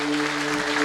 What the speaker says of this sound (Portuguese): Aplauda forte o nome de Jesus.